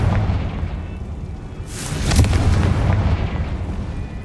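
A Confringo blasting curse explodes in Hogwarts Legacy, a single loud boom rising out of dense rumbling game ambience and trailing off over a couple of seconds, with no voices over it.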